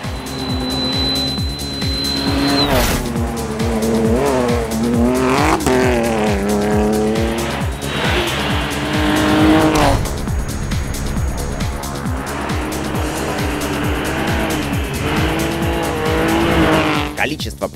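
Rally car driving a stage on competition tires, its engine roaring loud and close throughout with rising and falling revs and tire noise, while a co-driver reads pace notes in Russian over the engine.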